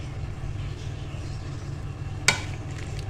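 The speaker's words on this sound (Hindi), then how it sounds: "चलिए अब हमने इसको अच्छे से मिक्स कर लेना।" A spicy burger filling being stirred and mixed in a pan, a low soft continuous sizzle with faint scraping and one sharp clink of utensil on metal near the end.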